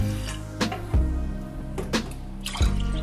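Water splashes and gurgles into a pot in short bursts, close and fairly loud, with clinks between pours.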